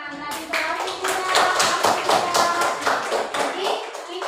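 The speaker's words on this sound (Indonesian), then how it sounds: "Boleh kasih tepuk tangan" A small group clapping their hands for a few seconds, close and lively, with a voice faintly underneath.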